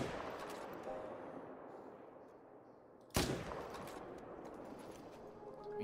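A rifle shot at a crocodile on the Emerald Coast in a hunting video game: one sharp, loud crack midway that fades into a lingering echo over a low outdoor ambience.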